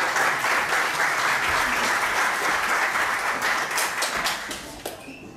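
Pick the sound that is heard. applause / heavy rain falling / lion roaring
applause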